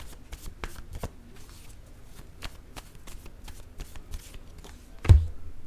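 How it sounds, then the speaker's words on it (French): Tarot word cards are shuffled and drawn in a quiet room, with a series of crisp, close riffling snaps and flicks and a thump near the end. "Je vais piger une carte mot."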